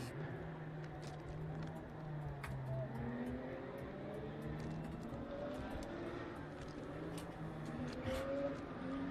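Porsche race cars roll around the Portimão circuit on a formation lap, with a steady layered engine drone and shifting pitches from several cars at a distance, mixed with faint ambient clicks.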